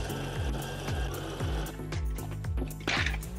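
A sewing machine stitches a denim seam on a jumper dress made from jeans, with a steady close-up needle rhythm that speeds slightly, accompanied by light fabric handling.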